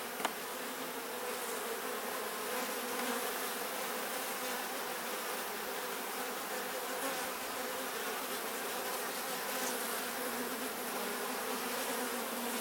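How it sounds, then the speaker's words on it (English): Yellow jacket buzzing steadily around an open beehive during a hive check, a continuous close insect drone that stays loud and even throughout with no talking. "Yellow jacket is trying to get in the hive here."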